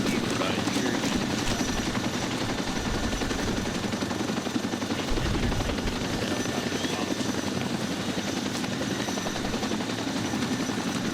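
A helicopter in the Arma 2 combat game roars steadily throughout, its rotor thrum loud and close, with gunfire-like bursts and voice chatter mixed beneath.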